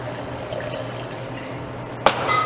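Tequila pours into a cocktail shaker in a soft, steady liquid stream, ending with a sharp clink of glass or metal near the end.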